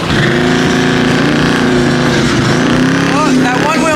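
A car engine drones loudly and steadily with rising, wavering pitch, mixed with crowd noise and voices in the background.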